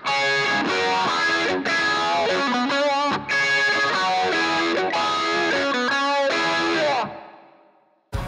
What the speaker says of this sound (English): I will set up now the phaser to create a sort of strange effects mixed up with the Univibe